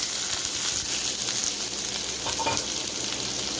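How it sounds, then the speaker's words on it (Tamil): Shallots, dried red chillies and curry leaves sizzle steadily in hot oil in a pan while cooking mutton blood fry, a loud continuous crackling fry with faint stirring throughout. "வெங்காயம், வரமிளகாய், கருவேப்பிலை சேர்த்து நம்ம நல்லா வதக்கி விட்டுக்கலாம்"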